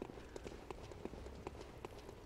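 Muffled footsteps from Bloodborne, heard through a wall: a steady run of soft, evenly spaced thuds at moderate distance, with a low game ambience underneath.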